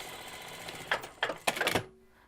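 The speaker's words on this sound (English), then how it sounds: "we're going to go ahead and sew along that" A sewing machine stitches a pillowcase seam in several short bursts of rapid mechanical whirring that start and stop within a couple of seconds, then it goes quiet.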